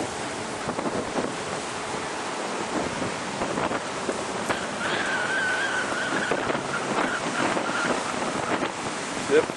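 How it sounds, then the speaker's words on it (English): Ocean waves break on a beach in a continuous wash of surf, loud and close, with gusty wind buffeting the microphone throughout. "Nice ocean wave breaking."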